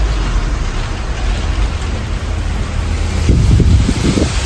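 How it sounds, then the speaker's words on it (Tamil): Heavy rain pours down during a night truck drive on the road from Hosur to Dharmapuri via Rayakottai, a constant loud roar of water mixed with wind buffeting and a low engine rumble. "மழை எப்படி ஊற்றுது அப்படியே ஊற்றுது"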